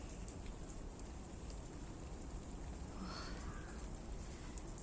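Rain falling outdoors in December, a steady dense hiss of drops that stays even and fairly faint throughout, with no voices.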